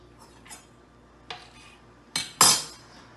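Food pieces set down one by one onto a dish, giving a few soft knocks and then two sharper clinks of ceramic near the end, close and otherwise quiet.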